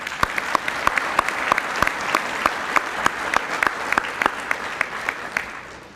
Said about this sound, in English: Let's give that group, that wonderful group, another round of applause